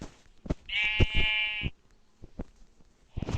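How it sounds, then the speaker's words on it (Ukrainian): A Minecraft sheep gives one loud, close, wavering bleat amid soft game thumps and footsteps, with another bleat starting at the end. "Там ще одна вівця має бути."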